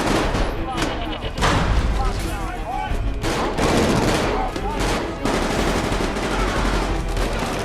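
Heavy machine gun fire in an action movie scene, loud sustained bursts with rapid rattling and booming impacts running almost throughout, with voices and music layered over it.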